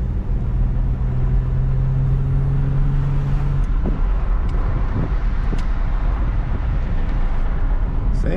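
A Chevy Impala drives along a road with a loud, steady rumble of engine and tire noise inside the car, its tone rising as it gathers speed, and a few faint clicks over the drone.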